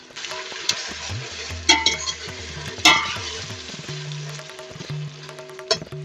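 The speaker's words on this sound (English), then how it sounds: "I'm just going to let this fry a little bit just for the tomatoes to get a little soft" Chopped tomatoes sizzle in a pot with thyme for a Durban-style curry, giving a loud, close, continuous frying hiss punctuated by several sharp clanks of a utensil against the pot, with no talking.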